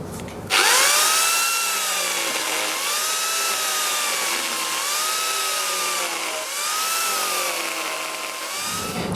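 An Arbortech power carver cuts into end-grain wood for a decorative mushroom, a loud steady high-pitched whine with wavering pitch, starting abruptly and running continuously before cutting off near the end, with no voices.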